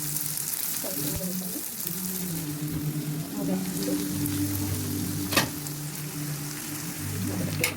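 Spicy potatoes fry in a pan with masala, giving off a constant crackling sizzle, while a low voice hums or talks faintly under it and a spoon clicks once.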